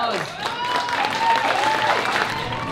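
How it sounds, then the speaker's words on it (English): Applause from the audience at an evening charity event featuring Montreal musical theatre performers, steady and dense throughout, with a voice and a sung or whooped tone riding over the clapping. "Applause!"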